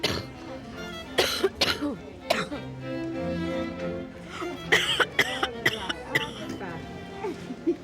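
Harsh, repeated coughing bursts come in irregular clusters with throat clearing between them, close and fairly loud, while people talk intermittently around the fits.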